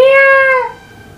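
A single clear cat meow, loud and close, with a drawn-out tone that slides downward and fades after under a second.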